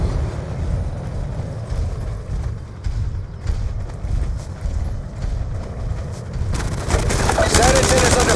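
Rapid bursts of gunfire in the video game Call of Duty Black Ops 2, loud and sustained over game radio chatter, with a brighter, harsher volley near the end.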